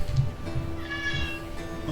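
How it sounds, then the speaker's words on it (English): A house cat meows a few times at close range on a farm, its cries sitting over a steady background hum and some low noise. "Oh, hey kitty."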